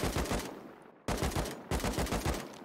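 Rapid automatic gunfire in an online survival shooter, three loud sustained bursts of full-auto fire with brief gaps between them, close and dominant, with no talk over it.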